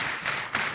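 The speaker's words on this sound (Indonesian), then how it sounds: "Kasih tepuk tangan yang meriah untuk Tuhan Yesus." A church congregation claps for Jesus at a Sunday service, short bursts of hand claps swelling in two quick waves, fairly close and lively.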